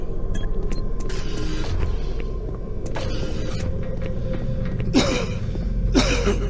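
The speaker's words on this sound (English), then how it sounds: "I just had to cough and clear my throat there a bit." A couple of short, rough coughs and throat clearing over a steady low rumble, close to the listener.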